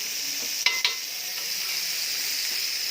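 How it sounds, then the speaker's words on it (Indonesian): Kamir cake frying in margarine on a griddle gives a steady hiss of sizzling, with a couple of brief clicks from a utensil partway through, close and quiet. "Digoreng pakai margarin ya, mentega."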